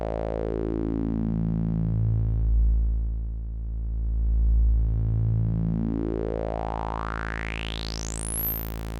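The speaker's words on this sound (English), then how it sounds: "And then with the resonance at full, it sounds like this." Audiothingies MicroMonsta synth tone with its filter resonance at full, sweeping down into a dark rumble and climbing back up, a sharp whistling resonant peak sliding high at the end; loud, steady and alone.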